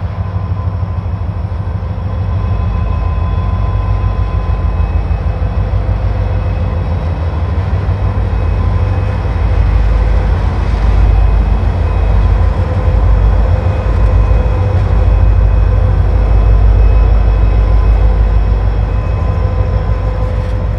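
CSX freight train DO58, made up of old high-sided cars, rumbles past on the track in a steady, loud, continuous roll with low mechanical drone and faint squeals, no voices.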